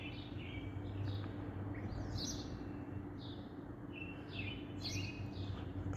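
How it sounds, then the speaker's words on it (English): Several songbirds chirp and trill outdoors on a sunny day, their short bright phrases repeating at moderate distance over a steady background hiss, with no talking. "And the birds are just sunshine and the birds, you know, singing."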